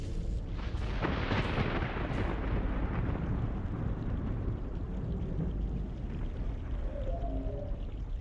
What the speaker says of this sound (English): There's a storm heading this way.